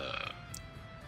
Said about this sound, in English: It's all about the burps.